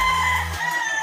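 A young gamecock stag at a breeding farm in Mabini, Batangas gives a short, loud, close crow-like call, with a clucking note trailing off at the end.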